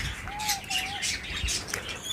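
Lovebirds in cages give short bright chirps and a couple of thin whistled calls, with faint wing flutters, close and fairly quiet.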